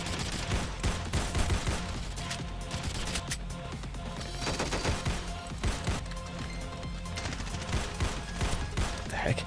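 Sustained gunfire in the Ravenfield battle video game, dense automatic bursts and scattered shots rattling steadily over nine seconds, with faint background voices mixed under the shooting.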